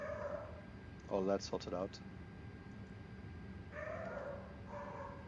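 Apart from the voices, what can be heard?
dog barking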